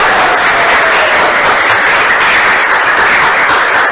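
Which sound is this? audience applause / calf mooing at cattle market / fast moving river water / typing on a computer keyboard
audience applause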